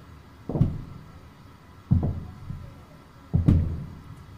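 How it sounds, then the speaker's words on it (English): Three heavy low thuds land about every one and a half seconds, dull and muffled as if through a ceiling, with quiet room noise between. "Somebody's jumping upstairs."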